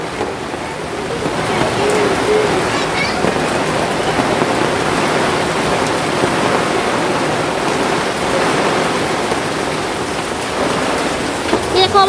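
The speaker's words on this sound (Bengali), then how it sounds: "শিল পড়ছে, পটপট করে আওয়াজ হচ্ছে" Hail falling and pattering on surfaces outdoors, a dense continuous rattling roar of stones with occasional sharper knocks, steady and loud throughout.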